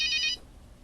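A cell phone rings at a dining table, giving a brief, bright electronic trill that stops abruptly after a fraction of a second, leaving quiet room tone.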